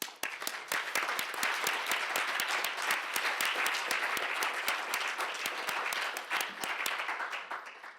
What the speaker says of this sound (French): Et donc je vous remercie de bien vouloir les applaudir